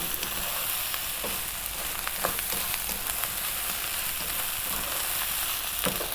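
Chicken fried rice stir-frying over high heat in a restaurant-style pan, a constant close sizzle punctuated by occasional scrapes and taps of the tossing utensil.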